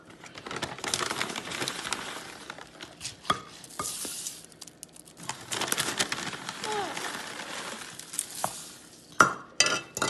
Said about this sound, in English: Mix it up. We gotta make sure it gets nice and sticky.